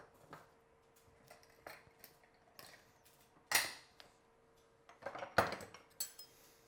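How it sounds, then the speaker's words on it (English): A spoon stirs cornstarch into liquid in a pot for a wild blueberry filling, giving quiet, scattered clinks and scrapes against the metal, with a couple of louder knocks and no talking. "And I just stir it to dissolve the cornstarch."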